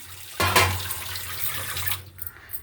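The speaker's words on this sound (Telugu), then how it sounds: "అలా వాటర్ వేసుకొని ఇలా వేస్తున్నాను" Water poured from a container, a splashy burst starting suddenly and running for about two seconds before tapering into faint drips.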